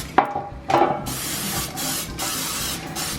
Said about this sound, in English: I'm going to spray them with non-stick cooking spray.